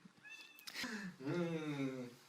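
A pet cat meows in a drawn-out, wavering call at close range, quiet and alone with no talking over it.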